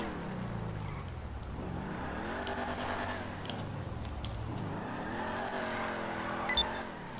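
The General Lee car engine in Grand Theft Auto V revs up and down in repeated rising and falling sweeps, moderately loud and alone, ending with a brief sharp click.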